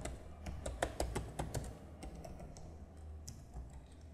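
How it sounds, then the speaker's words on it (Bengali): Computer keyboard keys pressed in a quick cluster of distinct clicks, then a few sparser taps, fairly close, with no talking, as arrow and Enter keys are used for data entry in accounting software. "কিবোর্ড থেকে ডাউন অ্যারো, চারটে যে অ্যারো আছে তার মধ্যে নিচের যে ডাউন অ্যারোটা মাঝখানে, সে ডাউন অ্যারোটা প্রেস করে ইয়েস করবে"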